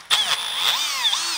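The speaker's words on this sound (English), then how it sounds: "And I'm just going to drill through each one of these." A power drill bores holes through plastic on a 2021-or-later Harley-Davidson CVO, a close, high whine that rises and falls as the bit bites, with short bursts of grinding as it breaks through.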